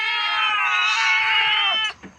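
A cat gives one long, loud, drawn-out meow close by, rising and sustained for nearly two seconds before breaking off, with a soft trailing sound after.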